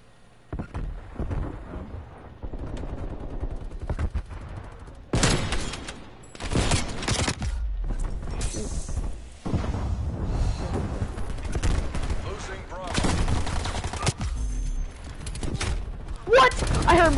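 Video game gunfire comes in repeated loud bursts of shots separated by brief quieter gaps, with a player talking between some of the volleys.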